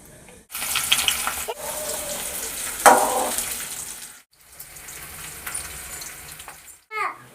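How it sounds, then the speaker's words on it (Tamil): Onion and dried red chilies fry in a pan for a Kongu-style dish, giving a steady hiss and sizzle with a few brief clatters, a sharp burst near the middle and short gaps where the sound drops away. "வெங்காயம் வரமிளகா போட்டுக்கலாம்."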